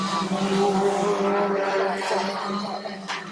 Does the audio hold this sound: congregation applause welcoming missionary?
no